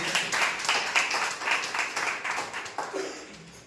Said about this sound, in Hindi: आइए हम लोग परमेश्वर के लिए जोरदार ताली बजाते हैं